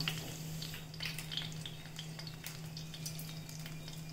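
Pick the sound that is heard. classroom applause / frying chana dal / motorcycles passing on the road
frying chana dal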